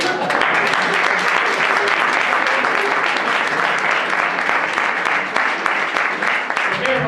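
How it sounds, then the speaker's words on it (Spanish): Audience applause at a conference on African development, a dense, loud, sustained roar of many hands clapping for the full length, with faint voices blended underneath. "Yo le voy a dar un aplauso, por favor, primero, luego se nos olvida, pero un aplauso, por favor"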